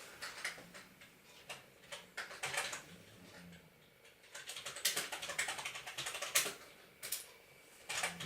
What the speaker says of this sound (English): so if we type this in